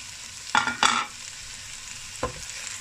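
Chili pepper stir-fried with lotus root in a hot pan gives a soft background sizzle, broken by two quick stirring scrapes close together and a third one a little later.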